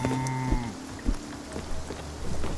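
A cow in a video game gives a low, drawn-out moo during milking, followed by a second brief low call, over a steady backdrop of falling rain.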